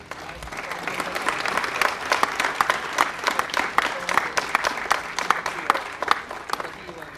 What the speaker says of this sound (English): So one big round of applause.